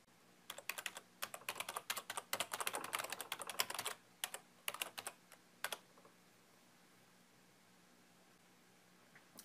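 Someone types a web address on a computer keyboard: soft, close key clicks in a quick irregular run with a few brief pauses, ending in scattered single taps and then quiet room hiss.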